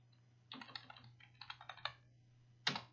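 Keys clack on a computer keyboard during circuit schematic work in Altium, with a quick run of light taps followed by a single firmer keystroke, quiet and close against a low steady hum.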